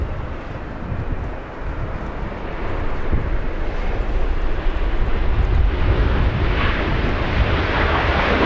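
A Delta Boeing 767-300 arriving at Los Angeles International Airport after a flight from JFK, its broad jet engine roar loud and steady, growing slightly stronger partway through and filling the whole stretch with no talk.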